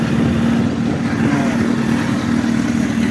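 A Honda CBR1000RR SC57 sport motorcycle idles close by with a smooth, even, low engine rumble that holds steady and has no talk over it.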